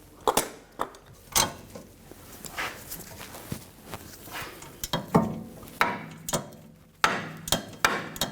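Ratchet clicks and metallic knocks sound in short, irregular bursts while the rear brake caliper bolt is loosened on a 2010-2014 Volkswagen GTI. The work is close up and moderately loud, with no talking.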